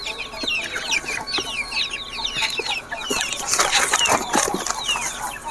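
Several Aseel chickens cluck and chatter nearby in quick bursts, with a busier, louder flurry of clucking toward the end.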